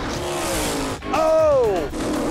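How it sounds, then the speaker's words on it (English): A 1975 Comet drag race car slides out of control during a drag race at Maple Grove Raceway. A loud engine roar rises and falls with a sweeping pitch, briefly dipping near the middle. No voices are heard. "75 Comet slides out of control."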